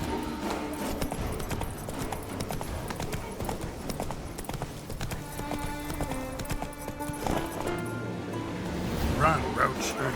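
Roach the horse gallops in The Witcher 3, rhythmic hoof clip-clops pounding steadily over game music and ambient sound, with a voice speaking briefly.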